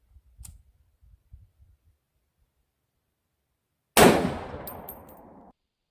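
An AR-308 rifle fires a single .308 Winchester Aguila round into lumber: one sudden, very loud crack outdoors that rings and decays over about a second, after a few faint shuffling handling noises.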